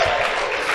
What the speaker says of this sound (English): Wait for applause